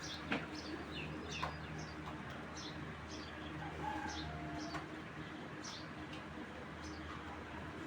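Racing pigeons with clipped wings coo softly and intermittently in a quiet, hissy space, with faint light rustles between the calls.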